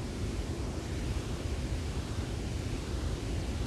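An autumn woodland waterfall pouring into a full pool below, heard as a constant, dense roar that stays even and unbroken throughout, with no voices.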